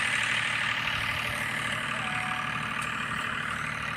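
A water-pumping engine runs next door, supplying a village, heard as a steady, loud, low mechanical drone that continues without a break.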